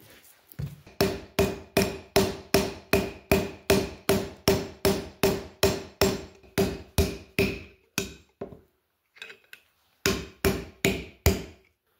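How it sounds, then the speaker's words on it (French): A hammer strikes a small piece of metal set into a wooden log in a steady fast rhythm of sharp, ringing blows, close and loud, stopping briefly before a last short volley. "je commence à taper plus fort que tantôt sur les bouts"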